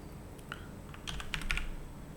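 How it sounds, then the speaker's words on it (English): Typing on a computer keyboard while entering a formula: a few quiet, sparse key clicks, then a short, denser burst of taps near the end, close-miked with no talk. "So I'm going to type in"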